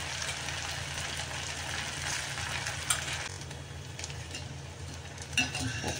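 Fritters frying in hot oil over a low flame for a fasting snack, a soft, steady sizzle that runs throughout with a couple of faint clinks near the end.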